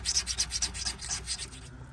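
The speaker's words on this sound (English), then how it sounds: "For this next part, we're gonna scrape it with a new razor blade" A new razor blade scrapes residue off a Primo ceramic grill in quick, rhythmic rasping strokes, close up and steady, with no talking.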